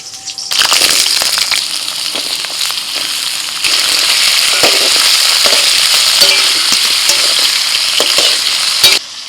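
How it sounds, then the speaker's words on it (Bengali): Potatoes and green chillies fry in mustard oil in a kadai, with a loud, constant crackling sizzle and frequent stirring clatter close by. "কড়াতে এখন সরষের তেল দিয়ে দিচ্ছি। এবার আলু দিচ্ছি আর কাঁচা লঙ্কা।"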